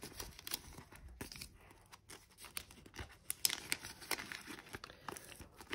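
Euro banknotes are folded into quarters to fit into budget envelopes, giving soft, close paper crinkling and crisp creasing rustles in irregular bursts, fairly quiet and without speech.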